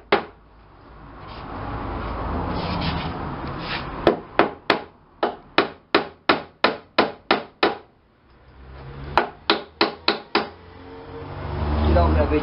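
Hammer striking a nail into a wooden board, a run of sharp, evenly spaced close blows in two sets with a pause between, plus some rubbing and handling noise around them.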